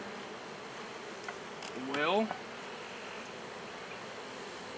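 Honey bees in a crowded hive give a steady, close, dense buzz, with a brief louder whine from one bee passing near. A person speaks briefly.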